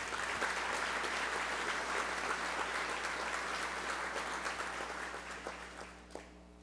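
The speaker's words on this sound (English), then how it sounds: "Please join me in a round of applause." A crowd at a cooperative's annual meeting breaks into steady applause, dense and moderately loud, then thins to a few scattered claps and dies away near the end.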